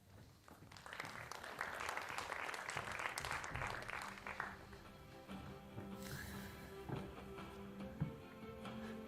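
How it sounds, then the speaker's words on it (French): An audience claps warmly and steadily at a talk about water, the applause thinning out and fading toward the end with faint scattered noises. "Puis je vous demande d'applaudir"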